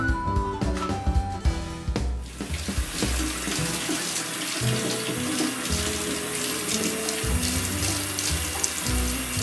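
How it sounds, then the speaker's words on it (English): Running tap water pours steadily over a wine thief being rinsed, after a few clinks and handling knocks, with the water rushing loud and continuous at close range. "What we're doing here is washing what's called a wine peat."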